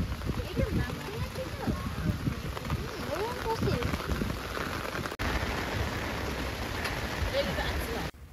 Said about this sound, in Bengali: এই যা বৃষ্টি বুঝি আরও জোরেই নেমে এলো।